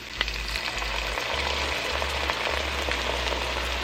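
Beer hits a hot pan of chicken taco soup base and sets off a steady, close sizzle and crackle with a few small pops, holding at an even level throughout with no talking.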